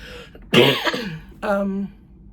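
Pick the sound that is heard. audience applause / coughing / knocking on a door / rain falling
coughing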